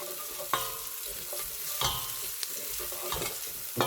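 Green chilies and onions fry in a pan for a keema madras, a continuous crackling sizzle broken by a few sharp scraping stirs, close and fairly loud.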